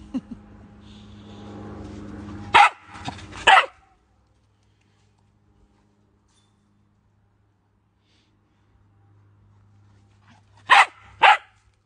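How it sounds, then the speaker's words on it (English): A pet dog barks loudly and close, two quick barks, then a long silence, then another pair of sharp barks; a low hum and faint sounds come before the first pair. "She likes to wait until you bend down so she can bark right in your ear."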